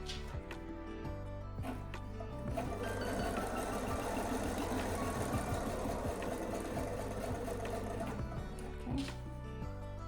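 A sewing machine runs steadily for about ten seconds while stitching partial seams of a quilt top, its even, rapid mechanical whir close and continuous from start to finish.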